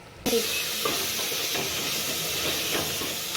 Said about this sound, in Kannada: ಇದನ್ನು ಆಯಿಲಲ್ಲಿ ಚೆನ್ನಾಗಿ ಫ್ರೈ ಆಗಬೇಕು, ಮಸಾಲೆ ಹಿಡಿಬೇಕು.